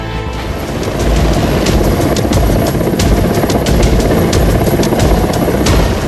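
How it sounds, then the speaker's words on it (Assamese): An Air Force rescue helicopter's rotor spins in a steady, loud, continuous throb with rhythmic chopping blade pulses, sustained throughout without speech. "বায়ু সেনাৰ হেলিকপ্টাৰৰ পাংখা ঘূৰিল খুটাঘাট বান্ধৰ ওপৰত"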